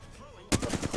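Rapid gunfire from the video game Apex Legends bursts in after a quiet moment, a dense loud volley of shots that continues to the end.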